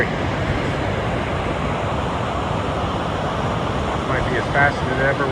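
The fast-flowing Mississippi River rushes in a steady broad roar close by, mixed with wind buffeting the microphone and no pauses in the flow.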